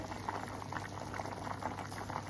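Toor dal and beans with green chilli, salt, oil and turmeric boiling steadily in a pot, a soft continuous bubbling simmer heard close with no talk.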